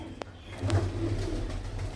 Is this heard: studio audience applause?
no